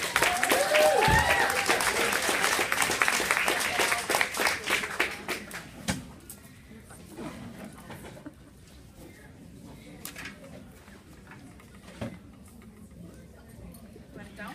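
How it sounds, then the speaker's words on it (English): Audience applause as a woman named Justine is welcomed onto a stage, loud dense clapping for about five seconds that fades into scattered claps and quiet room noise with faint talk. "You can give her a round of applause."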